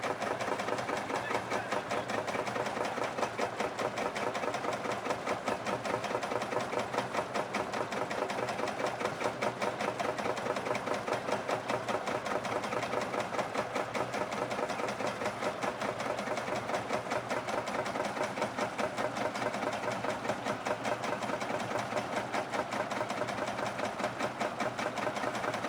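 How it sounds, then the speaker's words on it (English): A vintage tractor engine runs steadily in a show arena at Newby Hall, its engine turning the wrong way, giving a continuous, loud mechanical chugging rhythm throughout with no talk over it. "The engine's actually running the wrong way,"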